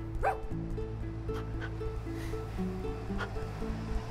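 In the video game Tchia, a stray dog gives a short yip and then a few soft barks over a steady hum of ambient game music and wave-like background.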